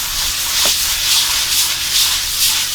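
Steady, continuous abrasive rasping of hand sanding aboard a sailboat, a rhythmic back-and-forth scrubbing that swells and eases in regular strokes, close and fairly loud, with no talking.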